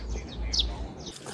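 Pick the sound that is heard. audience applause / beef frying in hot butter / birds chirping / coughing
birds chirping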